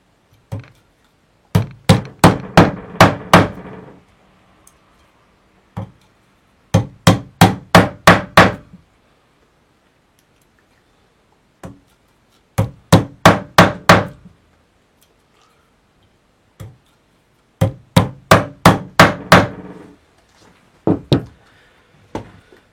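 Upholstery tacks hammered into the webbing of a chair seat, in four tight bursts of five or six sharp, rapid blows each, separated by quiet pauses, with a few isolated single taps.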